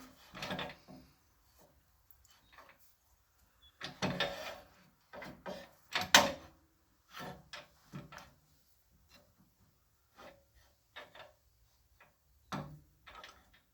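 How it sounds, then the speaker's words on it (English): Someone finishes the wooden body of a passive amplifier with a chisel: a series of short, sharp wooden scrapes and knocks in separate bursts with quiet gaps between them, close by. "So now we're going to finish it off with a chisel."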